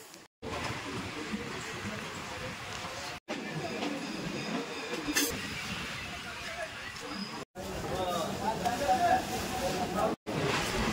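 A suburban train running near Kolkata's BBD Bag station, a steady rumbling roar with hiss and rattle that cuts out briefly several times, with faint crowd babble beneath.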